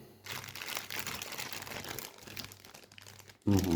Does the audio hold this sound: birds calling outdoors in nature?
no